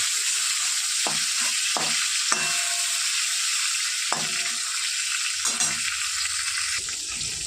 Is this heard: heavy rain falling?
no